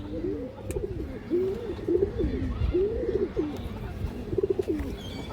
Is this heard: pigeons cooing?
yes